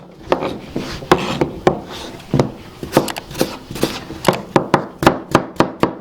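A knife chops potatoes into small cubes on a wooden cutting board, a steady series of sharp close taps speeding into a quick even rhythm toward the end.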